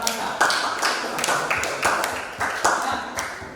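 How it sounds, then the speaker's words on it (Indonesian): A classroom of pupils claps for a classmate during a lesson, loose scattered hand claps with sharp bursts roughly every half second, fairly close and moderately loud, with a voice heard alongside. "Tepuk tangan kepada Apranta"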